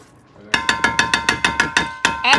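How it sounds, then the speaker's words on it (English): A silicone-coated whisk beats sauce in a pan for homemade macaroni and cheese, giving about nine quick, evenly spaced clinking strokes, close and fairly loud, with no voices. "You can use whatever whisk you want to, but whisk it in until it's thoroughly blended."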